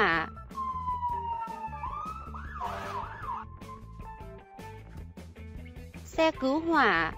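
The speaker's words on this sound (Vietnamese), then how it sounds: "Xe cứu hỏa." A cartoon fire truck siren from a children's puzzle animation sounds in rising and falling wails, loud and bright, set against playful music, with a short voice-like burst near the end.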